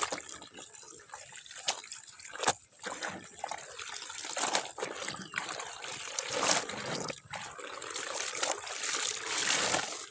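Water trickles and babbles in a small creek, a faint, continuous gurgling with scattered splashes and drips, no talk.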